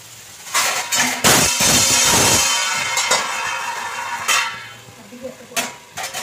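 A metal lid clanks and scrapes onto a pot of mutton being cooked as kosha, with several sharp clinks and a sustained rattle, close and fairly loud, followed by a few lighter taps.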